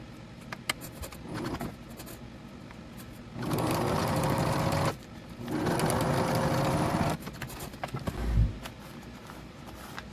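A sewing machine stitches a seam on a homemade rock sack, whirring in two sustained close bursts separated by short pauses, with quieter handling sounds before and after.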